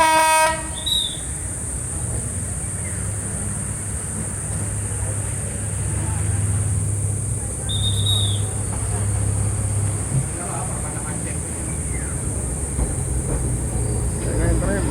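A PNR passenger train rumbles steadily as it arrives at Calamba Station, Philippines, with two short horn blasts, one at the start and another partway through, as people talk in the background.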